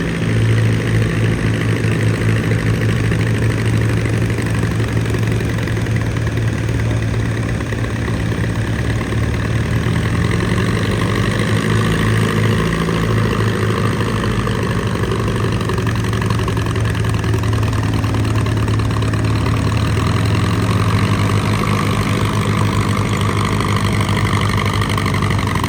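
An antique tractor engine idles at a tractor pull with a sticking valve, a steady loud, close rumble that keeps going for the whole stretch without letting up.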